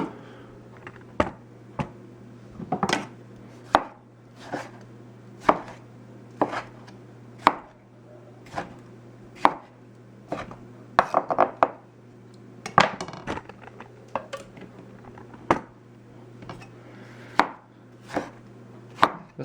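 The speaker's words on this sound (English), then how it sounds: "Okay, so now I'm going to chop up these tomatoes." Tomatoes being chopped with a knife on a cutting board in a home kitchen during vegetable canning, a steady series of sharp, close knock-like cuts spaced about a second apart, with a faint hum beneath and no talking.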